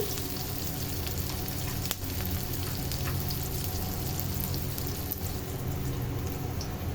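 Shrimp paste sautés in a pan, giving a dense, even sizzle that holds steady throughout with faint spatter, and no voices are heard.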